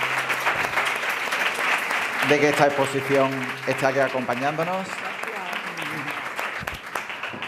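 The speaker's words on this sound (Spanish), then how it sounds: "Un aplauso para ella" An audience at a cancer awareness conference applauds, a broad clapping wash running beneath a voice that speaks over it throughout.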